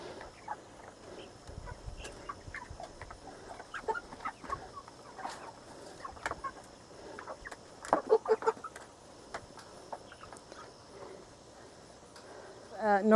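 Cornish cross chickens clucking and murmuring while they eat, a low busy flock chatter with scattered pecking, a brief cluster of louder clucks partway through, and a person talking quietly at times.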